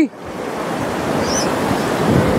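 Ocean surf roars steadily on a beach at Puri, a continuous wash of breaking waves with some wind noise.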